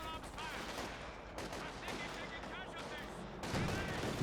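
Infantry squad gunfire in Company of Heroes 2, a steady run of overlapping rifle shots and bursts forming a dense, continuous battle din with a louder swell near the end.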